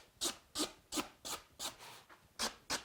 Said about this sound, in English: I'm just doing a little nice scraping here.